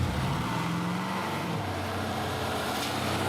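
Classic Mercedes race car with a steady, loud engine and exhaust rumble, idling or running at constant revs close by, with no talk over it.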